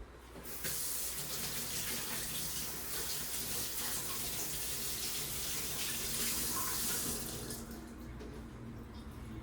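Water runs from a kitchen tap for hand washing, a steady close rushing stream that continues for several seconds and then eases off slightly near the end.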